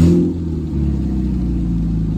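Car engine with its catalytic converter stolen, running loud and rough with a raw, blatting exhaust and uneven popping pulses, close by with no talking.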